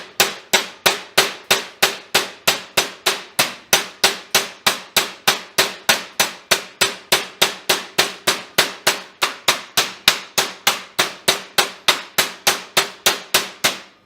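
Horseshoe hammered over a welded pipe to bend it, a long run of sharp, evenly paced metallic blows, close and loud, about three per second without pause.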